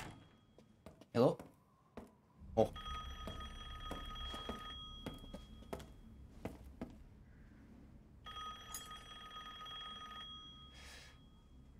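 A telephone rings in the video game Resident Evil Village, with two bursts of bright trilling bell separated by a pause. Thuds and footsteps sit beneath it, and the whole is fairly quiet.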